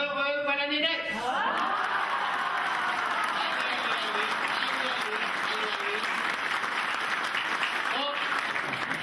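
A theatre audience at a comedy show applauds steadily, with dense crowd clapping and some laughter mixed in, while a performer's voice speaks over it at the start and again near the end.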